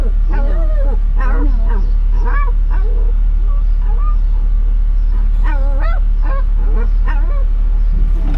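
A dog close by gives repeated whiny yips, whimpers and short barks in bursts, over a steady low hum, inside a police squad car.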